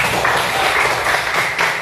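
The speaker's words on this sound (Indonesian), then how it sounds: "Tepuk tangannya" Applause from a classroom group thanking the second presenting group after a religious-education presentation, a steady dense patter of many hands lasting under two seconds with no voices.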